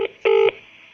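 Telephone keypad dialing tones calling the Department for Work and Pensions: a short tone, a pause, then a longer steady dual-pitch beep, close and clear on an otherwise quiet line.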